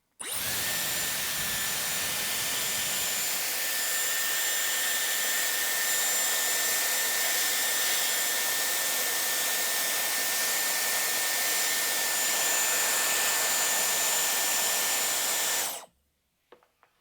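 A Dyson hair styling tool blows air steadily in a loud, even whoosh with a thin high whine, running close by for about fifteen seconds before cutting off.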